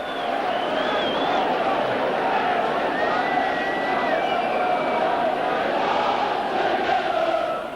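A rugby league crowd at Headingley, Leeds, in 1990 roars and sings steadily after a Leeds try in the corner. The dense, loud wash of voices continues without a break, with faint chanting lines rising above it.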